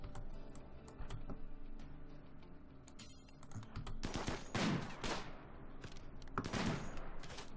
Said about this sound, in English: Okay, they got an actual machine gun on us now?